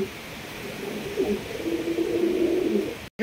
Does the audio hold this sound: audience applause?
no